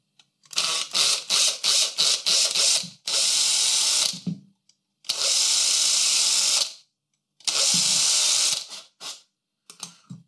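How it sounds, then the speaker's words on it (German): A 2.5 mm bit drills out a small hole in a Kadee model railway coupler, heard as several short whirring bursts followed by three longer sustained runs, close and fairly loud with quiet gaps between them. "Da bohre ich einmal dieses Loch hier auf."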